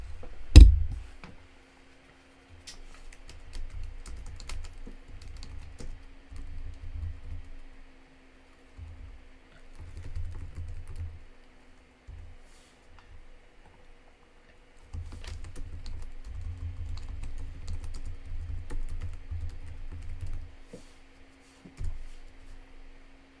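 Computer keyboard typing code, soft rapid key clicks in several bursts separated by short pauses, fairly close and quiet with no talking.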